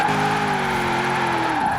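Nissan S14 in Forza Horizon 4 drifting, a steady loud engine drone with sustained tire squeal that slides in pitch before fading near the end.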